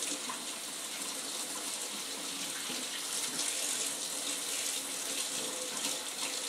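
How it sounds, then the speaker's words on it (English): Hot water runs from a kitchen tap to fill a container for homemade laundry detergent, a steady, even rushing and splashing that carries on unbroken with no talking. "I'm just going to get the water hot now."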